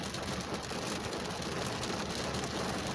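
Rain falls steadily on a car for a few seconds, making a constant close patter with no talking.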